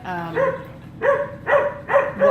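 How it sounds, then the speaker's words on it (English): Dogs bark repeatedly in short bursts, about four loud barks in quick succession, fairly close, with no other sounds around them. "I'm sorry that there's all that barking"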